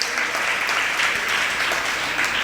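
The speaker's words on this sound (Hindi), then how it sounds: "ताली बजा करके इनकी अनुमोदना करो" An audience at a sermon breaks into sustained, dense hand clapping that stays even and loud throughout, with no voices over it.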